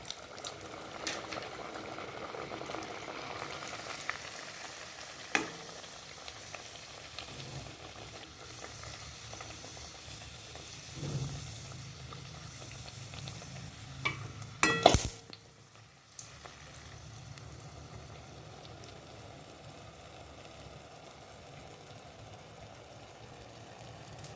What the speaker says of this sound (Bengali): এইভাবে করে কচুরিগুলো লাল লাল করে ভেজে নেব